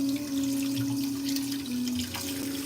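Tap water runs steadily from a faucet into a sink while someone washes blue chrome nail polish off their nails, a continuous close splashing flow with a faint hum underneath and no talking.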